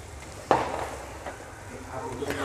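Chicken masala being stirred in a pan after fresh coriander is added, with a gentle sizzle and a sharp scrape of the spoon near the start, soft stirring throughout.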